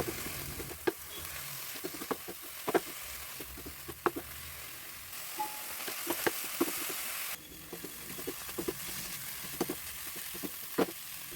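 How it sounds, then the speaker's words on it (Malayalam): Chopped ivy gourd with turmeric and salt being stirred in a hot pan for thoran, a soft sizzle under repeated sharp scrapes and taps of a spoon against the pan. "ഇനി ഇതെല്ലാം കൂടി നല്ലതുപോലെ ഇളക്കി യോജിപ്പിച്ചെടുക്കണം"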